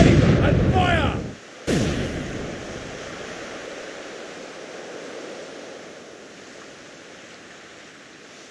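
A volley of cannon fire booms out in a loud, heavy blast, followed moments later by a second sharp report, then a long rumbling decay that fades into surf-like noise; a voice is heard just before the shots.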